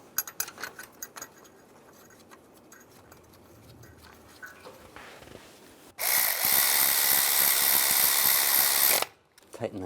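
A power tool tightens a bolt on the water pump bypass tube of a 2002-2008 Dodge Ram 1500, giving a loud steady whir of about three seconds after quieter clicks and handling noises.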